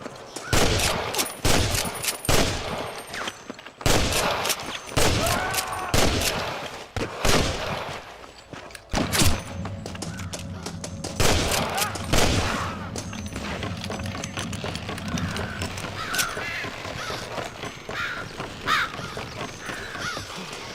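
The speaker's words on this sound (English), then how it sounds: "I can hear more gunshots." Rapid bursts of gunfire from a firefight in the video game Red Dead Redemption, shots cracking close and far in dense volleys with game ambience between them.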